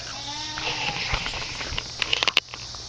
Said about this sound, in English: I think my goat's hungry too.